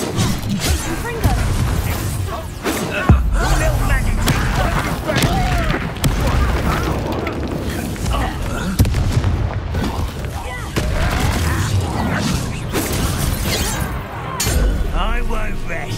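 Confringo blasting-spell explosions in Hogwarts Legacy, a dense run of booming blasts and crackling impacts over battle noise, loud and continuous, with a voice shouting during the fight.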